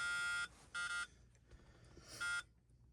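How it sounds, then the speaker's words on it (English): A dashboard buzzer in a 1977 Mercury Cougar sounds three loud, harsh bursts, two close together and one after a pause, over faint background noise. "Daggone, that buzzer works great."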